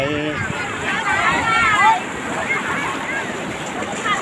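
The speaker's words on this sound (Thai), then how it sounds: "น้ำไหล" Floodwater rushes and flows steadily in a constant broadband wash, heard close up with wind buffeting the microphone, while a voice speaks briefly over the water noise.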